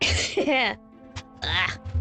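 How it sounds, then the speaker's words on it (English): A person clears their throat and coughs in two rough, throaty bursts separated by a short pause, close and fairly loud. "lingering cough"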